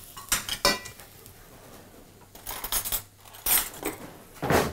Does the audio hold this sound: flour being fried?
yes